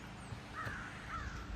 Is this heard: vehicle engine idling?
no